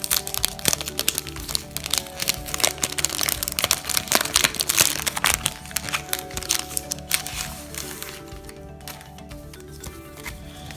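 Paper packaging for a fingerprint-proof screen protector crinkles and crackles loudly as it is handled and unwrapped. Dense crackling bursts come close up, then ease off toward the end.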